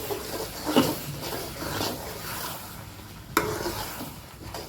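A spoon stirs chicken liver roasted with shallots, pepper powder and garam masala in a pan, soft scraping strokes over a low sizzle, with a sharper knock near the end.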